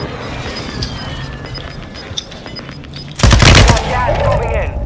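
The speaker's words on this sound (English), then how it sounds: "I'm hearing suppress fire." Gunfire in the video game Call of Duty Warzone: faint scattered shots in the distance, then a sudden loud, close burst of rapid automatic fire with a ringing tail, while players talk over it.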